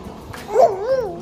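A dog lets out one short, tonal yelp that rises and wavers, fairly close against a quiet room background.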